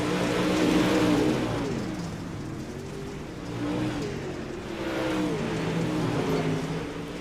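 Dirt race cars circling a dirt track, engines roaring and revving in rising and falling waves as they pass, loud and continuous with no voices.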